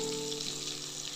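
Brinjal slices fry in oil with a faint, continuous sizzling hiss, steady and soft over a low background hum.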